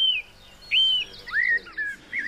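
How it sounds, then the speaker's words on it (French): A thrush and a blackbird sing in an English garden: short, clear whistled phrases and chirps come in quick bursts with brief pauses between them, moderately near. "la grive et le merle, qui chantent communément dans les jardins anglais"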